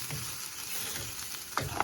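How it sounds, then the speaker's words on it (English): Rice and onions browning in a frying pan give a steady, close hiss of sizzling with a couple of faint stirring clinks near the end, no voices. "rice is still browning"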